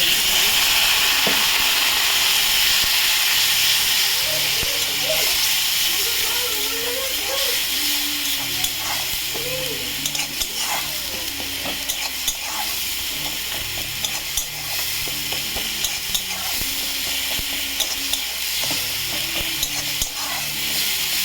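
Ground coriander, turmeric and chili powder fry in hot oil for a pomfret curry, giving a loud, continuous sizzle and hiss with scraping stirs throughout.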